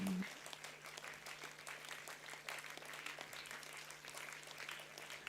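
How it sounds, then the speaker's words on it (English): Audience applause fills a convocation hall at a computing faculty award presentation, a dense steady wash of many hands clapping continuously throughout, with a faint steady hum underneath. "your applause has to get bigger and bigger"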